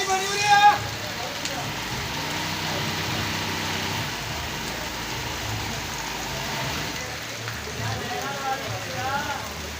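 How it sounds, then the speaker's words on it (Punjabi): Heavy rain falls in a steady dense hiss, ongoing for about two hours, with a faint engine hum in the background and a brief voice near the start. "ਅੱਜ 58 ਗਾਬੇ ਦੇ ਵਿੱਚ ਇੰਨੀ ਬਾਰਿਸ਼ ਹੋਈ ਹੈ ਨਾ, ਤਕਰੀਬਨ 2 ਘੰਟੇ ਹੋ ਗਏ ਤੇ ਫੁੱਲ ਸਪੀਡ ਨਾਲ ਹੋ ਰਹੀ ਆ"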